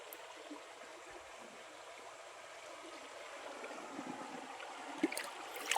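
A river stream flows with a soft, steady, faint rush of water, and a few small knocks and splashes come near the end.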